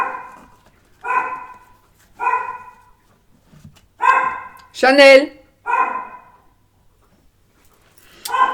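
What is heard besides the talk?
dog barking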